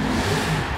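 A classic 1960s car with its standard engine revs in Forza Horizon 4, a loud, steady, full-bodied engine roar held briefly without speech.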